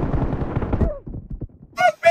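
Gunfire in the mobile game BGMI comes as a rapid run of shots followed by a few quieter pops, then bright tonal game effects at the end.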